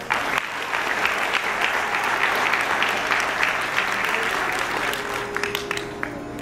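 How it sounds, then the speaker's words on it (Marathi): A hall audience, many in traditional Maharashtrian dress, breaks into loud, sustained applause, a thick continuous roar of clapping that thins slightly near the end. "तेव्हा एक टाळ्यांचा कडकडाट"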